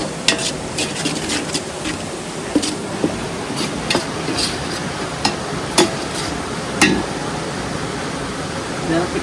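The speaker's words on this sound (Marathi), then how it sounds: "घरचा मालवणी मसाला घालून मसाल्याची फोडणी देऊ" Chicken marinated with onion and homemade Malvani masala frying outdoors in a pan by a riverside, a steady sizzle broken by sharp scraping stir strokes, close and fairly loud.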